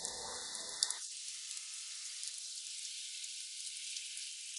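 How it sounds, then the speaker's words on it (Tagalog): Rain falls at night in a steady, faint hiss of drops, with a heavier, fuller patter for the first second before it thins to a light, even spray. "Ganitong gabing umuulan."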